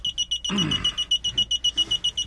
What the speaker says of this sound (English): You hear the beeping behind me.